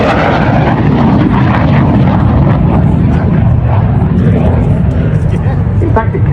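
A MiG-17 jet aircraft flies at the Duxford summer airshow, a steady, loud broadband engine roar that continues throughout with a person talking over it.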